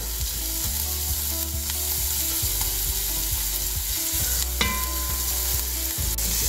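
Spices and vegetables sizzle loudly and steadily as they sweat in a pan for soup, with frequent scrapes and knocks from stirring, close up, with no talk.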